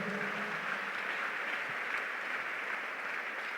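A church congregation applauds the Lord during worship, a steady, fairly quiet wash of clapping that holds evenly throughout with no voices on top.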